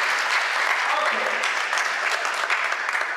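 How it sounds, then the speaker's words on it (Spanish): Sustained, dense applause from a church congregation during a Spanish-language sermon, steady and fairly close throughout with a faint voice underneath. "Démosle un aplauso a Cristo entonces."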